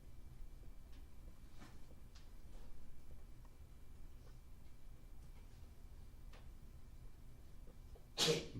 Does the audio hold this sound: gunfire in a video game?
no